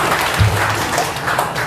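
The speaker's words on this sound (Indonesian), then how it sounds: "Tepuk tangan yang meriah untuk Pak Sidik." A crowd applauding steadily, a dense wash of clapping that holds at an even level throughout.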